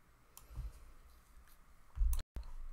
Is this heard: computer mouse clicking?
yes